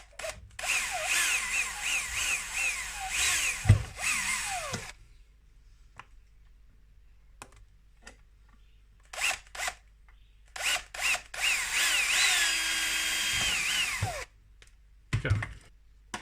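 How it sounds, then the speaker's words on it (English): A power drill whirs loudly in two long bursts drilling a hole in a project box, with short trigger blips and clunks between them and a quiet pause in the middle. "and then I'm going to drill a hole."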